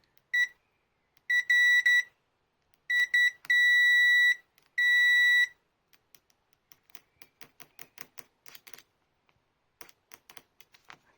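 A Voltcraft VC891 digital multimeter on continuity test gives several short, loud, high-pitched beeps in bursts, followed by quieter rapid clicks and taps.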